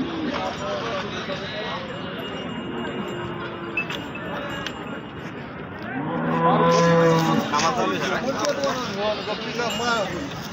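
Bulls low repeatedly at a busy cattle market in Deulgaon Raja, with deep, drawn-out moos growing louder toward the middle while people talk nearby.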